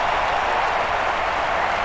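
Crowd in a London 2012 Olympic stadium applauding steadily, a dense continuous wash of clapping at a distance, with no break.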